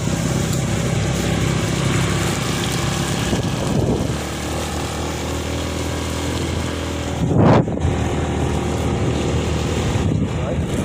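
A motorcycle engine drones continuously as it rides along a muddy road in Zamboanga Sibugay, revving and straining unevenly, with a brief louder burst partway through and faint voices underneath.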